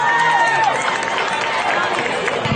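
A crowd at a junior high football game cheers and roars continuously, a dense, steady wash of voices with whistles and shouts rising through it.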